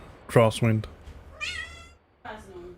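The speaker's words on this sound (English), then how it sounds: "And that's the cat I was talking about." A cat meows in the background, two loud close meows followed by a softer drawn-out one, with someone speaking briefly between them.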